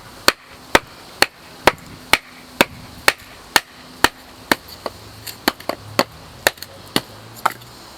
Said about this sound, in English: you can split the wood. It will take a few whacks, but you will get through it eventually.